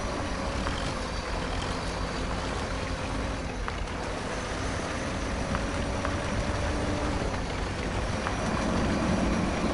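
Tractor B6A engine in the Spintires MudRunner game, a three-gear vehicle with a poor-sounding engine, giving a continuous low, rough drone with steady rumble and no talk.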